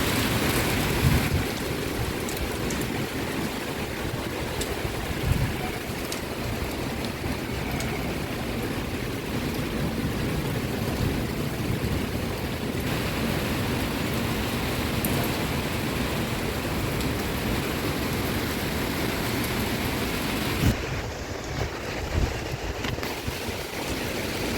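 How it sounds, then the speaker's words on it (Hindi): Heavy rain and stormy wind outside a house, a steady dense roar of falling water and gusts that holds constant throughout with no voices. "बाहर मौसम ने अचानक से जो है करवट बदल ली, बहुत तेज़ आंधी तूफान चलने लगा"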